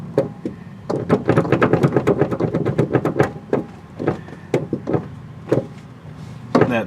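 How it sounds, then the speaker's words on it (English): Passenger seat bracket in a 1985 Jeep CJ, its pin worn loose in ovaled holes, giving a run of rapid close creaks and knocks, then slower scattered clicks and taps. "The passenger side seat bracket makes this horrible creaking noise."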